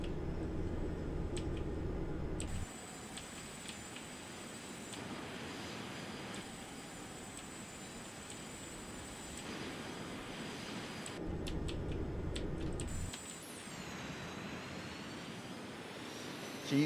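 CRJ700 jet engines drone steadily in a flight simulator game, a continuous whine and roar that shifts in level as the view changes, with a couple of brief switch clicks.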